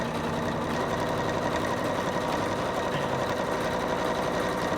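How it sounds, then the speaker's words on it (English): An embroidery sewing machine stitches a knockdown stitch onto a towel. It hums and clatters in a steady, fast, continuous run at close range, with no talk. "Now I know it's sewing nice and evenly"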